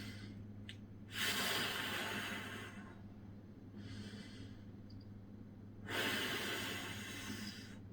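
Slow, deep breaths during a plank exercise, with two long, close inhales or exhales and a softer one between them, heard alone over a low steady hum.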